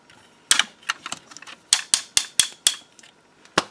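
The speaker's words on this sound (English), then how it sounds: "this thing's got ratchets everywhere" The ratcheting joints of a Transformers toy figure click sharply in close quick bursts, a dozen or so distinct ratchet snaps with short gaps between them and no voices.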